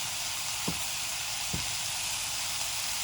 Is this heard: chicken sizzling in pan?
yes